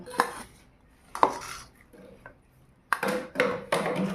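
Mango dal is scooped out of a wok with a metal spoon: a handful of sharp clinks and scrapes against the pan, spaced irregularly and close by, with quiet gaps between.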